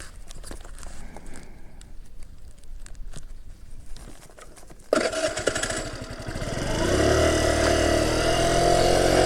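A Revival 50cc motorcycle engine with a self-adjusted idle runs at close range, first ticking and puttering quietly, then rising into a louder, steady buzzing drone as the ride gets under way.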